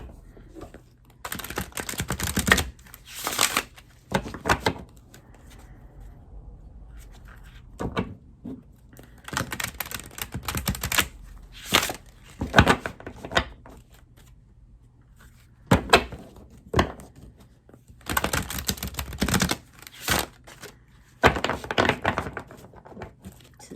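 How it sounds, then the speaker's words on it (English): Stiff cards of a new deck riffle and slap in repeated bursts of crisp flicking, with quieter pauses between shuffles, close up. "New deck, they're hard to shuffle."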